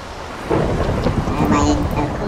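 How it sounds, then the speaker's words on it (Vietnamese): Heavy rain and rolling thunder in the Minecraft Hexxit mod, a steady loud downpour hiss with a thunder rumble swelling in after the first half second. "Mưa gió ghê gớm mày hả? À cứ mỗi lần giết cái con nó xong là mưa."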